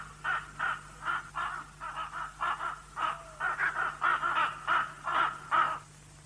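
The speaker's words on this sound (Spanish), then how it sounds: "Sí, razonar con los cuervos." Crows cawing in a steady rhythmic series of harsh calls, about a dozen in a row, fairly close and clear over a faint low hum, with no talking.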